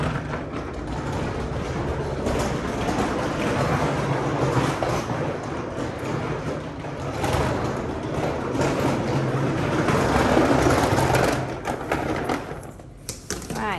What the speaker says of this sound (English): This is turning into a vacuuming with Hetty video.